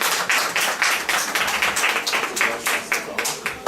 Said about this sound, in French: Donc vous pouvez encore l'applaudir,